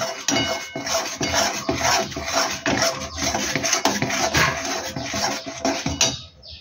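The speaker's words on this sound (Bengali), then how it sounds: "এই দেখুন, এবারে আমি এটা নাড়ছি।" A spoon stirring coriander and cumin powder into jujube pickle syrup, producing continuous close clinks and scrapes against a metal pot that stop abruptly near the end, with no voices.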